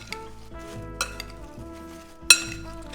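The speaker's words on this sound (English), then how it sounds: "I'm gonna take a little apple pie spice and season these apples. I'm gonna mix that up" Sliced apples tossed with apple pie spice are stirred in a dish, giving soft, close scraping and shuffling with light clinks of a utensil and one sharper knock near the end.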